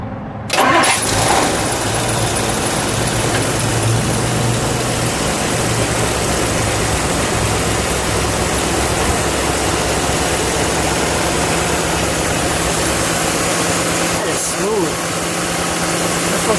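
A 1959 Edsel Corsair convertible with a 360 cubic inch V8 cranks and catches with a loud burst, then settles into a steady, rumbling idle that holds for a long stretch close to the car, with people talking over the engine.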